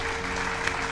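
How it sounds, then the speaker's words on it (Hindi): A woman claps on her own, a brief run of quick, close hand claps at moderate loudness with no other voices. "खुद ही तालियां बजा रही हो?"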